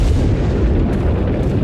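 A Resident Evil 4 video game explosion comes through as a dense, low rumbling boom that holds steady and loud for under two seconds, with no voices.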